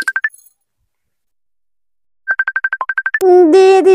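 Mobile phone ringtone heard indoors during a household cleaning scene, a quick run of short electronic beeps, a pause, another beeping run, then a louder sustained melodic ringing tone close by.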